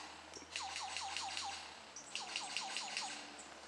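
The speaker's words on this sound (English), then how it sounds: "That bang bang bang noise is a lyre bird folks" Lyrebird calling in the wild near a large termite mound on a log, a run of repeated sharp descending whistled notes in two bursts, fairly near and clear over faint insect hum.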